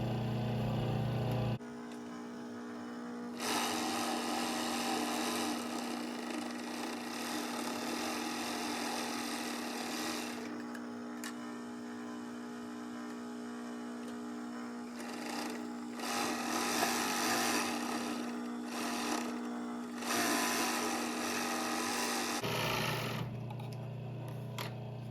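A sewing machine stitches the seams of a fabric pillowcase, its motor whirring steadily in long runs broken by brief stops, close and even in level.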